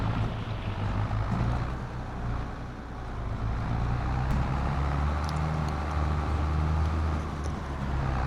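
A diesel tractor engine runs on a Missouri farm field, a steady low rumbling drone heard up close and alone, with some wind buffeting.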